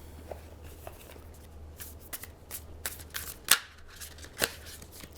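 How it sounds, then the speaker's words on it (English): Playing cards being shuffled and drawn from a newer tarot-style deck, giving soft riffling flutters with a few sharper card snaps standing out near the end, close and quiet with no talk. "Let's pull a card for that."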